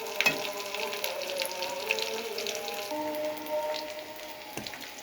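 Chicken fry sizzles quietly in a pan with a soft, crackling hiss, punctuated by a couple of sharp clinks from stirring.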